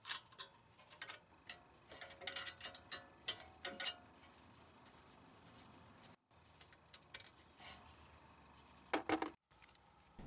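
A ratchet wrench works on brake caliper bolts during rear brake disc replacement on an Audi A6, making bursts of quick metallic clicking and ticking up close, separated by quiet pauses.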